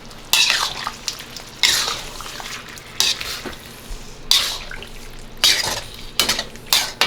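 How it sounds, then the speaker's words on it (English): A spoon scrapes and stirs through Kung Pao chicken sauce of chicken stock and cornstarch in a hot pan, making repeated short clattering scrapes over a soft background sizzle. "add the chicken stock with the cornstarch, give it a stir so that you can mix up the cornstarch that has settled on the bottom"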